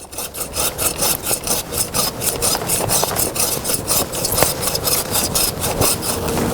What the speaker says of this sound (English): I'm going to cut it from behind right here and start to take this branch right off fairly close to it. I'm using a tree saw